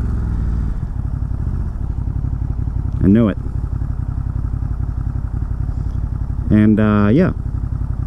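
A decatted Ducati motorcycle idles loudly and steadily nearby with a rough, throbbing exhaust note, and two short throttle blips rev the engine up and back down while someone speaks briefly.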